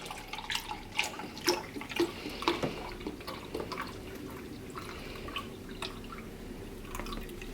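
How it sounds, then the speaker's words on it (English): Beef broth glugs and splashes from a carton into a stew pot, a run of close, uneven drips and splashes that settles into a steadier pour, with no talking. "now what you're going to do is get beef broth. You can get any type that you want, and you're gonna add 4 cups."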